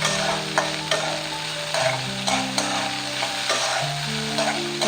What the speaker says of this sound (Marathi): आता एकच मिनिट याला हलवून घेणार.